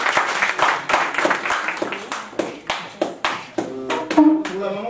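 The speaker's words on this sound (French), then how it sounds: "On peut l'applaudir." Scattered hand clapping from a small audience at an arts event, uneven sharp claps that thin out, with a voice joining near the end.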